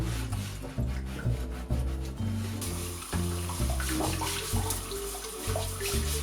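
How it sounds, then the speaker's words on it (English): Water running in a sink while parts from a 1997 computer are scrubbed and rubbed, a close splashing rush with uneven scraping and knocking strokes, no voices. "I think I'm going to use the sink."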